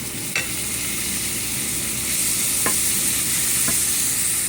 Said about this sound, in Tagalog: nagigisa naman ako ng mga bawang. Lagay natin ang kamatis